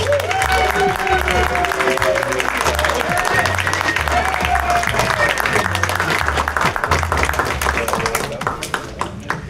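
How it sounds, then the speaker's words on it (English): A horror convention audience applauds the cast of Killer Klowns from Outer Space, with dense, sustained clapping and some cheering filling the room while voices and music carry underneath. "Give them a hand and a round of applause."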